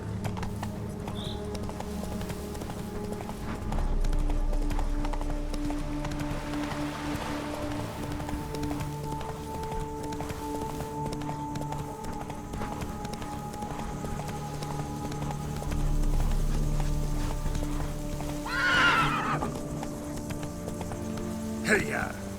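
Hooves of Roach, a horse in The Witcher 3: Blood and Wine, clip-clop in a steady galloping rhythm over rainy ambience, with a voice urging the horse on and a brief whinny near the end.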